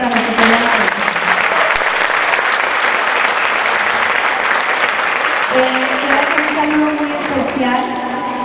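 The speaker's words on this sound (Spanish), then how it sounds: "Un aplauso para nuestro compañero." Loud, continuous applause from a large audience at a children's dance festival, with a voice talking over the clapping toward the end.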